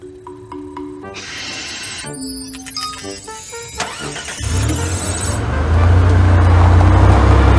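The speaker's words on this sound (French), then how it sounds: "I'm starting the car." A car engine starting: a few seconds of clicks and chimes give way to the starter cranking and the engine catching, then settling into a loud, steady running rumble close by.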